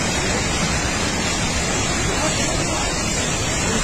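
Swollen river in Dharamshala rushing in flood after a cloudburst, a dense, constant roar of churning water close by that fills the whole sound without a break.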